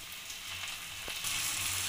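Ginger, garlic and green chili paste sizzles in hot oil with fried onions in a pan for a pointed gourd dolma dish, a steady bright hiss that swells louder partway through.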